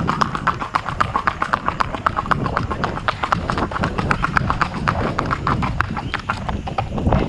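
A mare's hooves clip-clop steadily and loudly on hard ground, close by, in a regular trotting rhythm with a constant background rumble.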